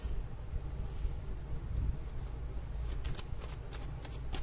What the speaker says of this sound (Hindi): कार्ड्स निकाल देती हूँ